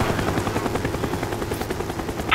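Cobra attack helicopter in Call of Duty Black Ops, a steady rapid rotor chop thudding at close range for a couple of seconds, with a sharp burst at the very end.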